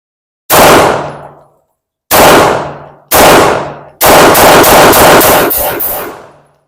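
A Sarsilmaz B6 pistol fires in sharp, loud reports: three single shots spaced about a second apart, then a fast run of roughly eight rounds that ends with a clanging ring. No one speaks.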